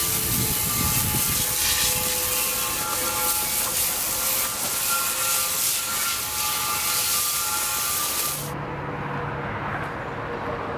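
Water sprays hard onto a greasy bellhousing to rinse off cleaner, a loud broad hiss running steadily before cutting off abruptly, leaving a quiet background.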